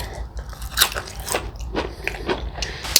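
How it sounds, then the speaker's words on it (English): Biting and chewing extra crispy fried chicken skin from a leg or thigh, close and loud, with several sharp crunches and crackles spread over a few seconds and no talking. "Let's eat the skin."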